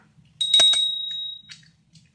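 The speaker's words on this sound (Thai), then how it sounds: "กดกระดิ่งเล่นเฉยนะคะ" A decorative push bell is pressed and rung once, giving a bright, clear ring that sustains for about a second before fading, with a couple of light clicks around it. Quiet room otherwise.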